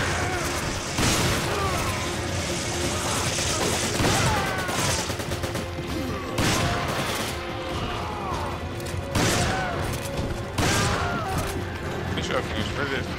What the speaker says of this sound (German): Ich denke, ich nehme meine Maschinengewehr.